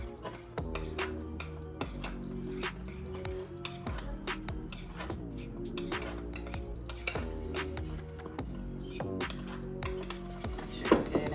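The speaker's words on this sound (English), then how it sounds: "Add about 2 teaspoons of salt. And you just want to mix that together." Flour and salt being stirred together in a bowl for an onion ring coating, with a utensil clinking and scraping against the bowl in a busy, steady rhythm throughout.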